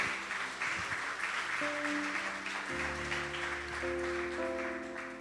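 A church congregation applauds steadily throughout, a dense continuous patter blended with sustained keyboard or organ chords playing underneath.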